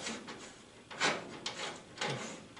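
A sheet-metal panel from a Citroën Traction 11B body is lifted off. It makes a few close scraping and rubbing sounds with a rough, grating texture and sliding swells, and no speech.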